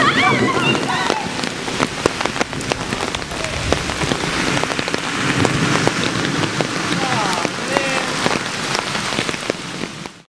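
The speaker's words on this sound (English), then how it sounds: "It's pouring down rain." Heavy rain pours down on surfaces in a steady, dense wash with scattered sharp drop impacts, loud and continuous throughout, with faint voices mixed in under the downpour.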